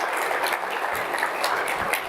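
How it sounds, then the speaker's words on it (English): Keynote audience at an OpenSearch community event applauding, a steady, even wash of many hands clapping at moderate level with no voices over it. "Let's give Corey another round of applause for joining us here today."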